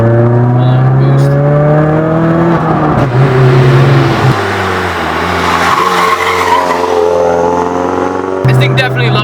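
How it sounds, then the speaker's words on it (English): A turbocharged Mazdaspeed3 engine revs hard under boost, a loud, steady droning pitch that climbs and drops with shifts, with a brief tire squeal, heard from inside the car. "This thing definitely loves the rev."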